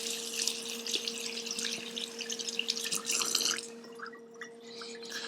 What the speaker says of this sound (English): rinse the hands again